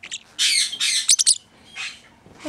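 A pet parrotlet gives several close, sharp squawks and chirps in quick bursts, with short pauses and a final faint call.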